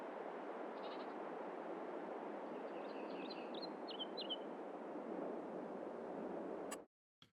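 Goats and lambs in a barn in Farming Simulator 22 bleat faintly over a steady broadband ambient wash, with small chirpy calls scattered midway before the sound cuts off abruptly near the end.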